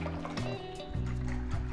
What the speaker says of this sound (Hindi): और लास्ट में इसमें ऐड करेंगे लहसुन का वाटर।